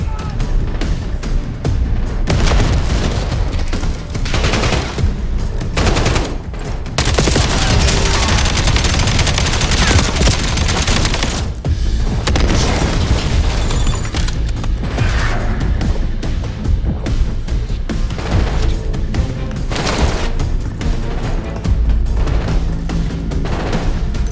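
Explosions and bursts of gunfire in the Black Ops 7 video game, loud and dense across the whole stretch, with booming blasts and rapid shots layered under game audio.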